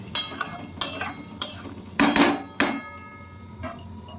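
A spoon stirs rui fish curry with cauliflower and potato in a metal pot, giving a series of sharp clinks and scrapes at irregular intervals, close and fairly loud, with no talking.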